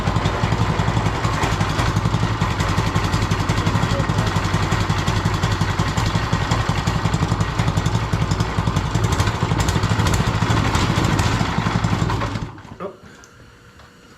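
A Manco mini bike with a Predator engine fires up on its first start and runs with a loud, close, rapid chugging idle for about twelve seconds, then cuts out abruptly, leaving quiet.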